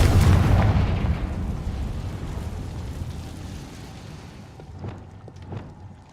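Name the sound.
Confringo spell explosion in Hogwarts Legacy video game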